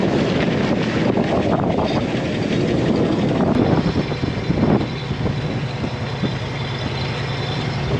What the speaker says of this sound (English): Now we're in low gear, and now we can climb this hill.